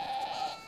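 A sheep from a shepherd's flock in Bharmour bleats once, a close, sustained wavering cry standing alone against faint background.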